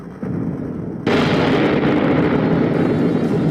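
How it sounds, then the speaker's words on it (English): A cannon explodes in the Roblox game Pressure, heard through a player's microphone as a sudden loud burst that rolls into a sustained heavy roar lasting several seconds. "I can literally hear a cannon exploding through your mic."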